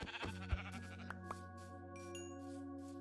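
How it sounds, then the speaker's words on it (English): Sheep in the video game Minecraft bleat a few times, short wavering calls over a steady tonal in-game background drone, with no talking. "Oh, here's another sheep. Might as well keep killing the sheep."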